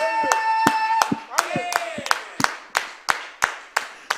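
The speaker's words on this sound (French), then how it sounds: "Donnons une acclamation au Seigneur." A church congregation claps in acclamation, starting with a loud cheer and voices and then settling into a slow, regular run of sharp, evenly spaced claps.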